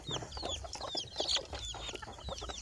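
Jungle fowl and white chickens cluck and chatter repeatedly at moderate distance, a busy scatter of short calls with occasional higher squawks.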